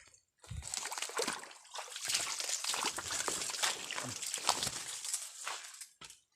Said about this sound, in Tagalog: May malinis na bukal.